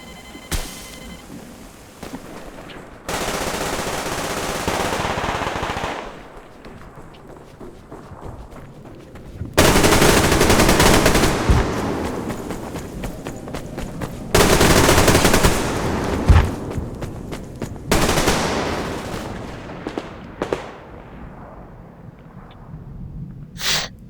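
Automatic weapon fire in the shooter game Survarium comes in long sustained bursts with short gaps between them, loud and close, with quieter stretches of footsteps and movement in between.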